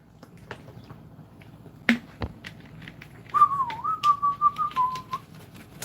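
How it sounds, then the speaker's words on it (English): A person whistles a short wavering tune alone, preceded by a couple of sharp clicks and faint background noise; the whistle is clear, close and moderately loud. "I've never been that good of a whistler"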